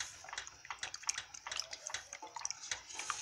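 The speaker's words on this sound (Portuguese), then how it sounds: "A gente vai colocando o leite aos poucos, vai mexendo." Milk, about half a litre, poured gradually into a pan for white sauce while being stirred, giving a soft, continuous liquid trickle with light splashes and small drips, fairly quiet and close.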